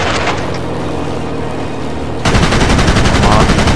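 Aircraft machine gun fire in the World of Warplanes video game, continuous loud rapid bursts over engine drone, intensifying sharply partway through into dense sustained firing.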